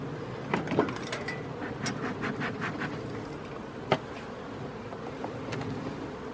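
Honeybees from a crowded hive hum in a steady, dense buzz with scattered clicks and a sharp knock partway through, and no voices are heard.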